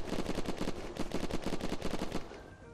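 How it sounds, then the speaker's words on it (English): Rapid automatic gunfire in the video game Unturned during a sky base raid, with bursts of shots crackling in quick rhythmic volleys over about two seconds, then tailing off; no talk. "Trying to shoot them."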